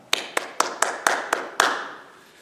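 Seven sharp, distinct handclaps at a steady, brisk rhythm during a Korean church's Sunday online worship service, close and clear, the last one ringing out in the room before silence.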